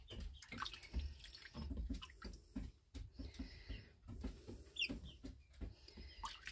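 A Silkie chicken is bathed in water, with quiet splashing, dripping and soft sloshing in repeated small bursts, faint and close.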